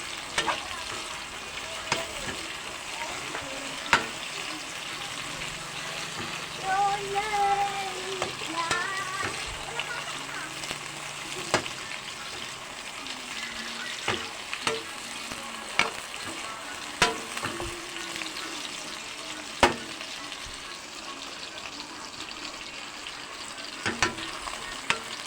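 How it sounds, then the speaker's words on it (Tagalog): Fish soup cooking in a pan, with a steady soft sizzle and bubbling broken by intermittent clinks and stirring taps, close and moderate, while faint singing plays in the background. "Tapos, magluluto ako ng isda na sabaw."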